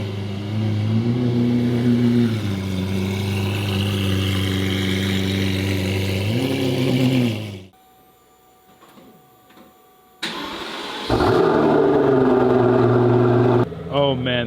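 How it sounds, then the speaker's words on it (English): A Mansory-kitted Lamborghini Aventador with a full Mansory exhaust gives a loud, sustained engine drone with shifting pitch, drops to near quiet briefly, then roars back loudly and close with revving and rising tones. "I don't know if you can hear me over the sound of that ridiculously loud Aventador"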